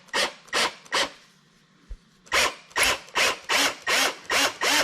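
A handheld 5/16-18 tap cuts threads through the top and bottom of a wooden joinery piece, giving close, rhythmic ratcheting clicks in short bursts, with a brief pause partway through before the steady strokes resume.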